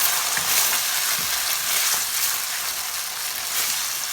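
Cabbage manchurian gravy with chili-garlic sauce and vinegar gets stirred in a frying pan, a steady close sizzle with faint scraping of the spoon, no voices.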